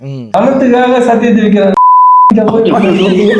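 A single steady censor beep tone of about half a second cuts in over a man's speech, sitting between louder talk before and after.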